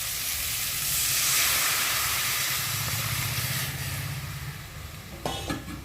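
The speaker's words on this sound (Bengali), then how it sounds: "আর এখন আমি ডালটাকে ঢেলে দিয়ে ভালো করে ফুটিয়ে নেব।" Dal poured over fried ridge gourd in a hot pan, a loud broad hissing sizzle that slowly eases into bubbling, with a few clinks near the end.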